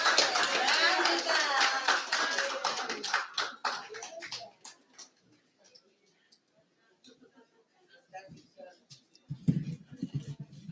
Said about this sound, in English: Can we give one more applause for Veronica?